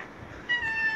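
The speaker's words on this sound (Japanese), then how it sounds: "ほら首輪がついたよその猫ちゃん" A cat wearing a collar meows once, a short, fairly close cry over soft outdoor background noise, with no talking.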